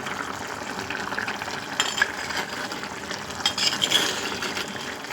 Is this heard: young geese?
no